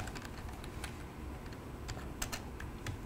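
Computer keyboard being typed on while writing program code during a university programming lecture: quick, irregular clicky keystrokes in close succession, fairly quiet and alone with no talking.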